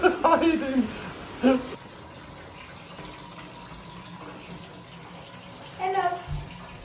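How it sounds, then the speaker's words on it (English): Water runs and splashes in a bathtub as a husky is bathed, a continuous low wash with bursts of talking at the start and again near the end. "I'll pour water all over all of her"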